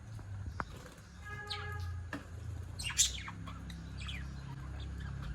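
Pet lovebirds chirp in short bright bursts and rapid twitters, mostly in the middle of the clip, over steady low background hum.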